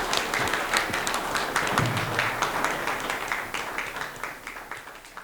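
A crowd applauds steadily, dense clapping that gradually thins out toward the end, with faint cheering in the mix.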